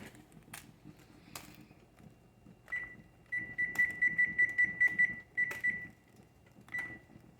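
Kitchen timer set for a boiling canner, giving a quick run of sharp, evenly spaced electronic beeps and then a single beep, close and clear over low background clatter, with no voices.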